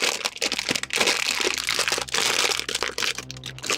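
Plastic wrapping on a Bandai Star Wars A-Wing Starfighter 1/72 model kit is crinkled and handled up close, a dense, continuous crackle of rustling film with brief louder crunches.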